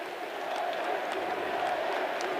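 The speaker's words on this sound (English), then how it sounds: "And the crowd chanting CFP" A college football stadium crowd of fans hums and cheers at moderate level, a dense steady wash of voices late in a game, with a faint announcer voice over it.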